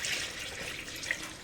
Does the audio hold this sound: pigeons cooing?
no